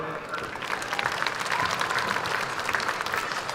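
Sustained crowd applause for school board officials at a high school graduation, a thick, even patter of many hands clapping that holds at a steady level across the whole stretch.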